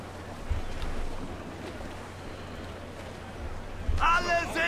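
Wind and big waves roll at sea aboard a sailing ship in Assassin's Creed IV Black Flag, making a steady broad rushing roar. A voice cuts in briefly near the end.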